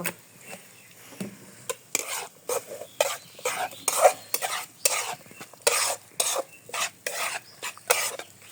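Small fish frying in a little oil while being stirred, with bursts of sizzling and repeated scraping strokes of a utensil against the pan, close and fairly clear.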